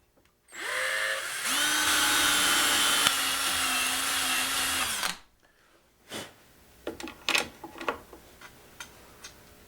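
A power drill bores a hole through wood for a T-bolt on a stop block for a crosscut sled's T-track, a steady loud whine for about five seconds with pitch shifts, followed by scattered clicks and knocks.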